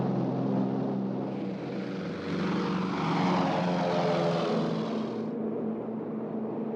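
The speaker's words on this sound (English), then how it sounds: "the sound of Allied planes overhead brought back terrible memories" Allied propeller warplanes drone overhead during air raids on Berlin. A steady, broad engine roar swells and then fades as the aircraft pass, moderately distant, with no voices.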